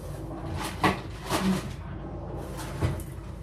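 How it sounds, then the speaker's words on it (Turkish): A kitchen drawer slides and bumps several times, close by, with a few short knocks spread across a few seconds over a quiet room background. "Kapanıyor artık çekmece."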